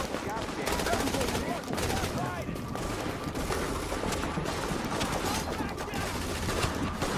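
Heavy automatic gunfire and bursts of machine-gun fire in The Division, set on a city street where a patrol is under attack, roaring continuously and densely throughout with faint voices mixed in.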